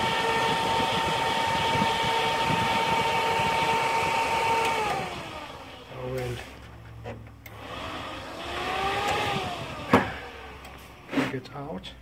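Dell OptiPlex desktop power supply fan spinning fast with a steady whirring hum for about five seconds, then winding down into quieter rumbling with scattered knocks, clicks and faint voices.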